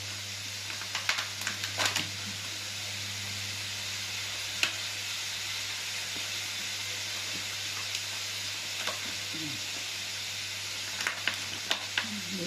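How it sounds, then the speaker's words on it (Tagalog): Bacon frying in a pan for pansit, a steady sizzle and hiss that runs throughout at moderate level, with occasional small pops and scraping clicks of stirring. "Lagay po natin yung bacon."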